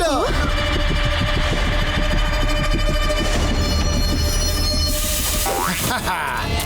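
A train runs past loudly, its wheels clattering steadily with a high metallic squeal ringing over the rumble.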